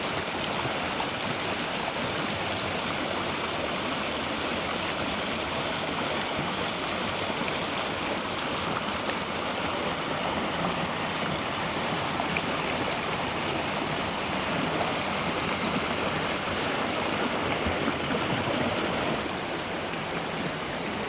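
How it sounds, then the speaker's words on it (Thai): Huai Tuek Chu waterfall runs through a rubber plantation near Phu Sing, Si Sa Ket, Thailand. The flowing water gives a constant rushing hiss that holds steady and close for the whole stretch, with no one speaking. "เป็นน้ำตกที่อยู่ในสวนยางพาราที่สวยงามมาก ๆ ครับ"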